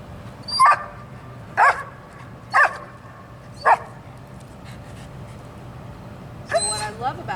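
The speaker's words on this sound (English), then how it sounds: "That was a badly timed bark, Poppy." A dog barks four times at roughly one-second intervals, then gives a longer yelping burst after a pause, the barks sharp and close in an indoor room.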